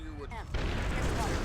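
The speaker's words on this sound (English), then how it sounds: "there's the explosion" A loud explosion booms in the stealth video game Splinter Cell, a sudden blast that gives way to sustained rumbling noise while a voice talks over it.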